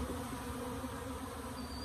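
Honey bees buzzing around a nuc box at a hive site, a steady, close, continuous drone with no talk over it.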